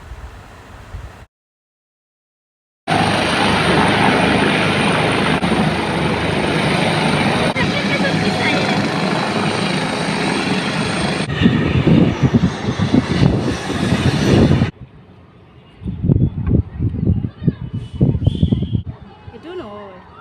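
A helicopter carrying a chief minister lands at an event, giving a loud, continuous whining roar of engine and rotor that cuts out. Afterwards come quieter crowd noise and scattered voices.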